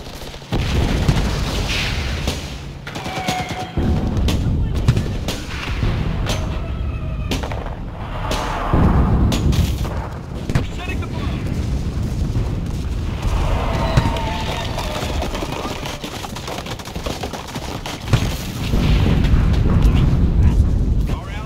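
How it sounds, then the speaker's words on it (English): An artillery barrage in the World War II shooter Enlisted, heavy booms and rumbling impacts repeating irregularly throughout at a loud, steady level, with battlefield gunfire and voices heard now and then. "Artillery, fire."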